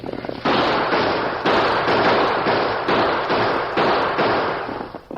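Gunshots ring out in a radio-drama stagecoach holdup, a rapid volley of loud, sharp cracks repeating about every half second and blending into a continuous, dense barrage with no pauses.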